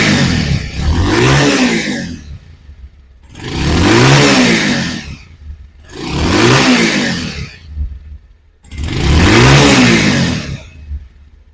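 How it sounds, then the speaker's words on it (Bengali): A Bajaj Pulsar 150cc single-disc motorcycle engine revs loudly up close in four long, separate bursts, each climbing and falling back to idle between them. "এখন আমি এই বাইকটি সাউন্ড কন্ডিশনটা শোনাবো।"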